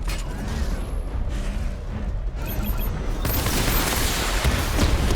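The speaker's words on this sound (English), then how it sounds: "Missile barrage level 2 ready." Missile barrage firing in Batman: Arkham Knight, a dense, continuous rumble of launches and blasts that builds louder and brighter partway through, with mechanical creaks and clatter underneath and no talk.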